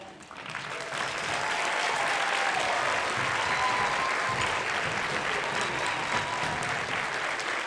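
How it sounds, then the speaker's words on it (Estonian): An audience at a dance school's winter concert breaks into sustained, dense applause, rising quickly and holding steady as a broad wash of clapping hands throughout. "Veel kord üks suur aplaus kõikidele tantsijatele."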